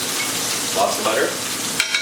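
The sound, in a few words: butter melting and sizzling in a hot pan with steak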